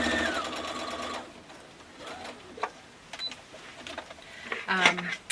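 A home sewing machine runs a fast, steady stitching whir while finishing the final seam of a quilted diamond-pattern Christmas tree skirt, then stops, leaving scattered handling noises and a few quiet clicks and rattles at close range.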